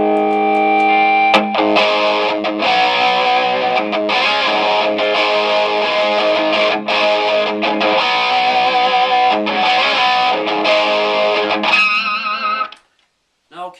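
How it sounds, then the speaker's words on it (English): A heavily overdriven electric guitar through a Marshall YJM 100 amp with boost and noise gate engaged plays loud, gritty chords and riffs, then cuts to sudden silence as the last notes stop sharply. "This time I'll kick in the boost and I'll also bring in the noise gate."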